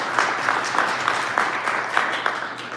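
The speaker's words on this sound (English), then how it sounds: "Give them a round of applause." Audience at a 1 Million Cups Detroit Metro business gathering applauding, a steady wash of clapping from a modest crowd, close and continuous throughout.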